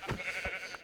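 Sheep bleating in the video game Minecraft, two or three short, fairly faint bleats spread across under a second, with no speech.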